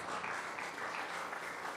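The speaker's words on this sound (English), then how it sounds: "Please let's give her a round of applause" Audience applause at an Anderson County board meeting, steady moderate clapping from a small room of people, fairly faint and continuous throughout.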